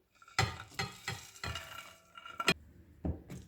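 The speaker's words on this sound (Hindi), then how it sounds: "एक बाउल में क्रीम डालेंगे, कंडेंस्ड मिल्क, चाट मसाला, इनको मिक्स करेंगे।" Cream, condensed milk and chaat masala are stirred together in a bowl for fruit chaat, giving a run of close, rhythmic spoon-against-bowl scrapes and taps, each stroke distinct, with no voices.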